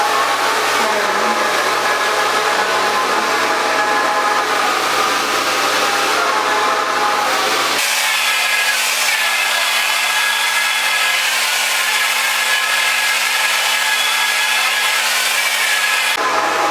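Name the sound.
hair dryer blow drying hair with round brush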